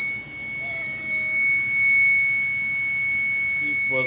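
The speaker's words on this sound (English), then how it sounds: "Where's the beeper?" A computer's motherboard beeper in a Dell Dimension 8250 desktop under repair gives a loud, steady high-pitched electronic tone, continuous for several seconds with no speech.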